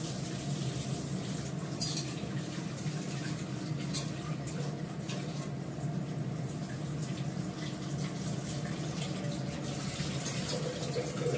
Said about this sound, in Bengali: যতটুকু জল লাগবে সেদ্ধ হতে ততটুকু জল দিলাম